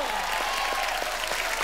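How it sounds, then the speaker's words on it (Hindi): Studio audience on a comedy show clapping briefly, a dense, steady patter that stays even for under two seconds, with no voices over it. "धर्म जी के लिए जोरदार तालियां हो जाए।"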